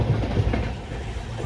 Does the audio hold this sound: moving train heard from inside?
yes